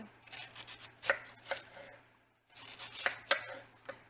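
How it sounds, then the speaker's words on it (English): A knife slices and chops an onion on a cutting board for kraut, with crisp, separate strokes in two short bursts around a brief pause, close and clear. "I'm going to slice mine and then chop it fine"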